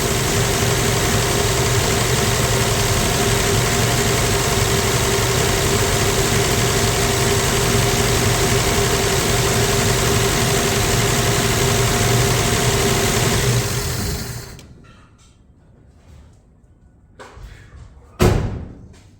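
A 1965 Plymouth Valiant 100 with a slant six idles steadily and close, a loud continuous rumble for about fourteen seconds before it shuts off, followed by near silence and a single sharp thud.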